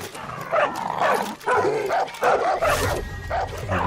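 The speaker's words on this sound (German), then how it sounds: "Die bellen sich nur an." Several dogs bark back and forth in the post-apocalyptic shooter game Far Cry New Dawn, repeated close, loud yaps and woofs in quick bursts with a faint whimper mixed in.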